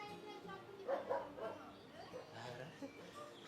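A dog gives a few faint barks near the middle, with speech and quiet background around it.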